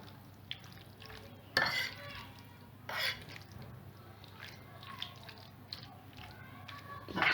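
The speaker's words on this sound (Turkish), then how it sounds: "karıştırıyorum." Quiet scraping and clinking of a utensil stirring pasta with tomatoes in a pan, with occasional louder scrapes over a soft background hum.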